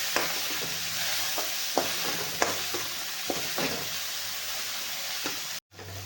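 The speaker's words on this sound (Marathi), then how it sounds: "कांदा टमॅटो चांगले तेलात विरगळे" Onion and tomato frying in oil, a steady close sizzle broken by repeated scraping stirs of a spoon in the pan, with a brief cut near the end.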